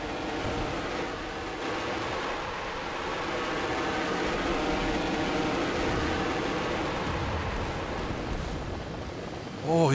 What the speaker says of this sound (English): he's got like a Soyuz engine sound